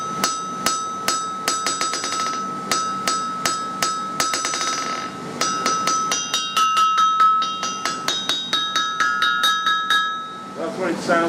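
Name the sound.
anvil ringing when struck, before hold downs fitted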